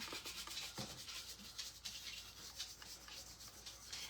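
Paint being wiped off a sealed vase during an upcycling makeover, heard as a steady close-up rubbing with soft repeated strokes, continuous and fairly quiet throughout.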